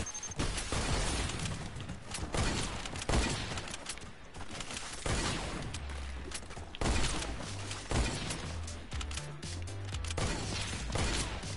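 Rapid, dense gunfire from a Fortnite match, continuous loud shots and impacts rattling for over ten seconds with mechanical clatter mixed in and no pauses.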